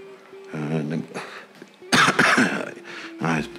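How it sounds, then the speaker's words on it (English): Several harsh, close coughs burst out in quick succession, interrupting a man's speech. "I apologize again about the coughing fit."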